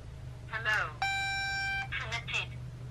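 Power-on and pairing tones from OhO Sunshine waterproof Bluetooth audio sunglasses: a chirpy rising voice-like prompt, then a sustained multi-tone chord for about a second, followed by more short announcement sounds over a low hum.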